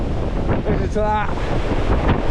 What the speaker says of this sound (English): Ah, the wind!